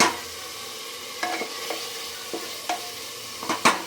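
Spice masala for Bengali aloo dum being stirred and fried in a pressure cooker, with a soft steady sizzle under several scraping strokes of a spoon that grow more frequent toward the end.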